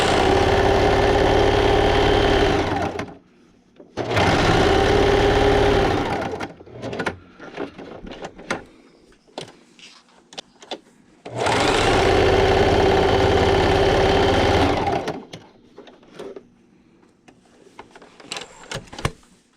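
Sewing machine stitching fabric cast iron pan liners, running in two long loud buzzing bursts of a few seconds each, separated by quieter stretches of clicks and handling noise.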